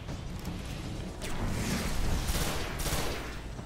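Grenade blasts and gunfire in the shooter game Destiny, a dense rumbling barrage of explosions and rapid shots, loud and sustained for the whole span.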